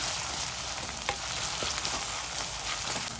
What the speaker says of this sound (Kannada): ಈರುಳ್ಳಿ ಸ್ವಲ್ಪ ಫ್ರೈ ಆದಮೇಲೆ ಟೊಮೊಟೊ ಹಾಕ್ತಾ ಇದ್ದೀನಿ